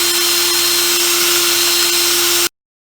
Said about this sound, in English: stick it in a drill, and then stick it in the paint